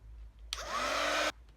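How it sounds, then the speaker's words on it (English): A heat gun gives a short burst of loud, breathy blowing on printed vellum paper, lasting under a second with a quick start and abrupt stop, against quiet background hum. "I'm just going to give it a burst with the heat gun."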